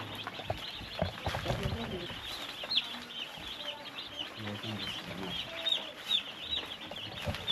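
Broiler chickens in a brooder cluck and chirp continuously, a busy flock close by with overlapping calls, while a person talks quietly underneath.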